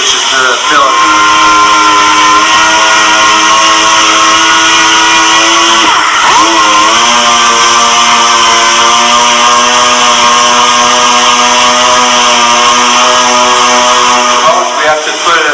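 A power sander grinds steadily and loudly across a plastic car bumper weld repair, its sustained whine with strong harmonics broken by one brief dip midway and running continuously otherwise.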